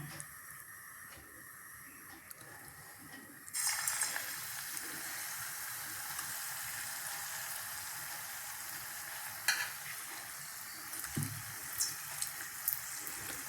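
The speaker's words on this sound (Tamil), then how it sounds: "இப்போ இதை இதில் நினச்சி எண்ணெயில் போட்டுடலாம்" Sweet potato bonda balls drop into hot oil and fry with a steady, loud sizzle that swells after a few seconds and holds, with occasional crackling bursts and no talk.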